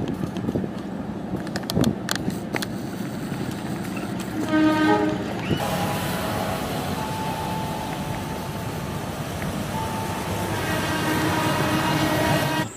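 A freight train of cargo wagons rolls past with a steady rumbling clatter of wheels on rails, a short horn toot partway through, and a brief voice near the start.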